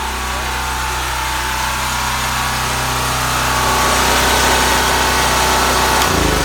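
A generator engine runs at a steady, loud, close hum with a constant drone and vibration, rising slightly midway before the tone shifts near the end as it is shut off.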